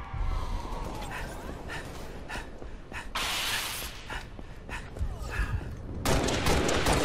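Shotgun blasts in the online shooter Halo Reach, several loud bursts at irregular intervals amid game noise, with someone talking over the action.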